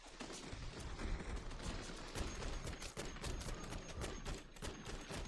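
Sustained rapid automatic gunfire from a .50 cal assault rifle in MW3 Zombies, dense overlapping shots from several players firing at once, loud and continuous throughout with no speech.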